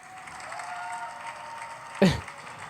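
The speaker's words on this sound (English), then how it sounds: "they're all like clapping" Traders applaud at the New York Stock Exchange market close, a soft distant patter of clapping under a faint hum of crowd noise, broken by one brief louder knock near the end.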